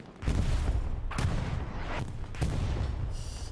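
Artillery explosions and gunfire in the video game Hell Let Loose during a competitive match: a string of heavy booming blasts at irregular intervals over a rumbling background of distant shots.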